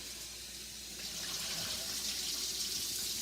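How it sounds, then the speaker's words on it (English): Cold tap water runs steadily from a kitchen faucet over boiled eggs in a pot, a continuous hissing splash that swells slightly as the pour goes on, with no talking. "replace that hot water with cold water"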